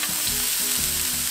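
Food fries in a pan until golden, a steady bright sizzle with soft crackles and faint stirring scrapes throughout.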